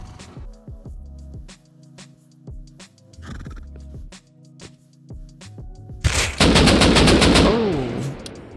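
Gunfire in the video game Rust Console Edition: a run of sharp single shots and short bursts, then a loud, dense stretch of rapid automatic fire near the end, with no talk over it.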